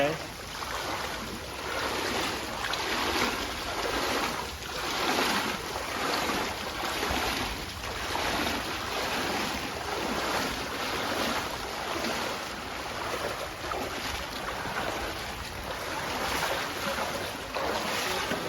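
Sea waves surging against the shore at Satpati village near Mumbai, a continuous rushing roar with rhythmic swells and wind, no clear talk.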